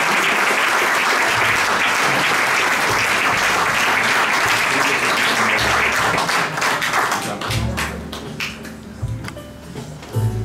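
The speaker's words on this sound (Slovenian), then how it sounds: "še enkrat naš aplavz za vse, ki štejejo 30 let" Loud, dense applause from an audience at a 40th-anniversary celebration of a regional crafts and business chamber in Nova Gorica, steady for about seven seconds before thinning into scattered claps.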